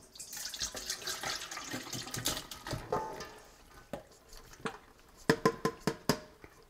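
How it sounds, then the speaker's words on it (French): Salted courgettes are rinsed under running tap water, splashing and trickling near a sink, with the flow breaking into sharp drips and spatters toward the end. "On les rince comme il faut."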